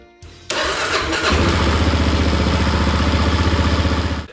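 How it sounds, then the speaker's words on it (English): A motorcycle engine is started with a brief whirring crank, then catches and settles into a loud, steady idle with a rapid, even pulsing throb that stays close throughout. "I'm gonna start and run the bike"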